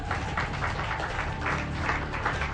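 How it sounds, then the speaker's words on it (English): An audience applauds at a public event, a steady wash of many hands clapping at full, even loudness for a few seconds with no talk over it. "Can you clap for them again?"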